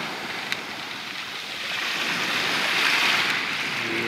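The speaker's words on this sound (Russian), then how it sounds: "холодный ветер прям с моря дует" Cold wind blowing in off the sea at Buknari beach in Georgia: a steady, broad rushing roar of wind and surf that grows slightly louder midway, with no voices.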